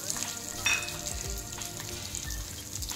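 Garlic, onion and spices such as coriander seeds and asafoetida sizzle steadily in hot oil for a tempering, with crackling pops and occasional stirring scrapes, close and continuous.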